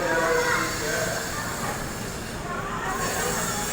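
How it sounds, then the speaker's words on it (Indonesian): A commuter train pulling into the platform at Tanah Abang station, a steady hissing rumble of wheels and carriages with faint squeals, loud and continuous throughout. "Wah, keretanya udah datang."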